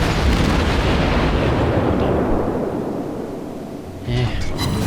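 Naval guns fire in the World of Warships video game as a loud, heavy boom with a long rumbling decay, followed by another burst of shots near the end.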